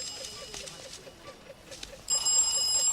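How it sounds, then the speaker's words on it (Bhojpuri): A phone begins ringing with a bright, steady electronic tone partway through, fairly loud and close, after a stretch of quieter background with faint repeated chirps. "लागता भैया के फोन आइल"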